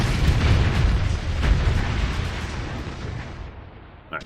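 Missiles explode in Starsector as a heavy, rumbling blast that swells and rolls on for a few seconds before fading, with a smaller pop near the end.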